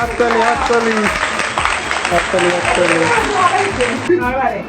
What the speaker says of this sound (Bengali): আরে হাততালি